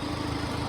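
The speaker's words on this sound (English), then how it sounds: "You'll hear that little whine right there. That's normal with these tractors." A Farmall Cub tractor runs with a steady engine drone, and its hydraulic bypass adds a thin, constant whine. The sound is close and continuous, with no voices.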